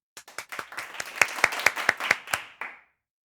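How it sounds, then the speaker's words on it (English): Children in a Rwandan primary English lesson clap for themselves, roughly a dozen distinct, fairly even claps in a short burst that stops abruptly. "Clap for yourselves."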